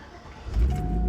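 A GMC Sierra pickup truck's engine cranks briefly and fires up into a loud low rumble, with a steady whine riding on top as it settles.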